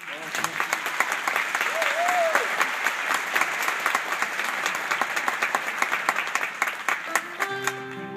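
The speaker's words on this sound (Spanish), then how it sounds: "Dice que si no les aplauden" Audience applause fills a live performance of a song, steady clapping throughout at moderate loudness, with a brief tonal note near the start and instrument tones entering at the end.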